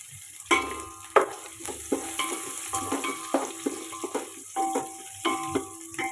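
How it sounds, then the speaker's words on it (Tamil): Onion frying with ginger and garlic in a pan for coconut milk rice, an irregular series of spoon scrapes and clinks over a soft sizzle, close and moderately loud, no talk. "வெங்காயம் பொரிஞ்சதும் இஞ்சி பூண்டு சேர்த்துக்கிடலாம்"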